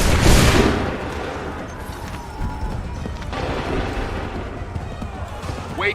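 A musket volley in Assassin's Creed 3 cracks out in one loud, sharp burst at the start, then trails into a rumbling battlefield ambience with scattered faint shots and thuds.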